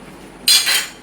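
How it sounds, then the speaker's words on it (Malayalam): A cooking pot is set down on a stove in a home kitchen, making a single sharp metallic clank followed by a short ringing scrape. The sound is close and stands alone, with no talk. "ഞാനൊരു ചട്ടി അടപ്പത്ത് വെച്ചിട്ടുണ്ട് കേട്ടോ"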